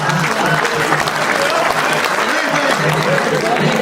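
Dense, loud applause from an audience at a Hindi poetry recital fills the whole stretch, steady and unbroken, with a murmur of voices faintly underneath.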